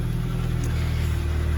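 A Volkswagen Scirocco engine idles loud and steady on choke, a close, continuous low rumble with a throbbing beat and no speech over it.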